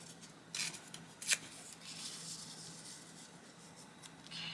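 Paper being torn from a journal at a desk in a few sharp ripping bursts, close and fairly quiet, with soft rustling and handling noise in between and no talking.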